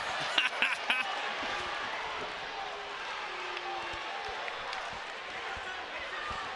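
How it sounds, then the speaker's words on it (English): A boxing crowd cheers through the start of an overtime round, a steady wash of roaring noise with a few sharp shouts and claps near the start. "And the crowd goes wild."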